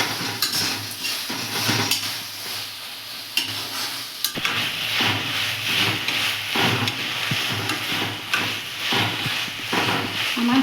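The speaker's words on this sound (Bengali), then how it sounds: "শুকাতে হবে নেড়ে চেড়ে" Prawns and red amaranth greens are stirred in a pan to dry them out. A utensil scrapes and clatters against the pan in steady rhythm over a loud, continuous sizzle, close and without talk.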